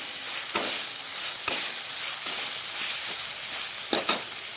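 Dal being stir-fried in hot oil in a pan, a steady close sizzle broken by a few sharp scrapes and stirring clicks, with no talking.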